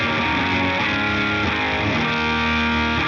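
Electric guitar played through a BIAS amp model with four preamp tube stages, giving a dense, distorted, sustained tone with chords ringing steadily and loudly throughout, no voice.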